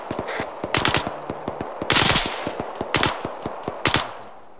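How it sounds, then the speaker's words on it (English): Automatic gunfire in the Arma 3 military game rattles in rapid bursts, four loud volleys cutting through a steady stream of shots, with no talk. "Fire, they're shooting back at us."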